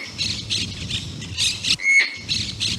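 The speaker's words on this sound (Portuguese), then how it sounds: "Pássaros de todo tipo." Pantanal birds squawk and call in a dense, repeating chorus nearby, with harsh, rhythmic bursts every half second and one sharper whistling cry in the middle, no voices.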